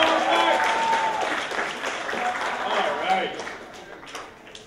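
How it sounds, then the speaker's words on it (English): Audience applause and cheering for a teacher at a comedy sports show, a steady wash of clapping that fills the room and slowly fades, with voices mixed in. "All right, give him a big round of applause."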